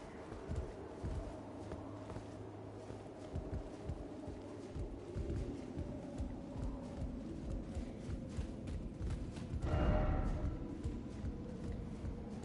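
Horse hooves clopping steadily while riding in Elden Ring: Shadow of the Erdtree, a continuous loud gallop with wind over a low game soundscape, swelling briefly near the end.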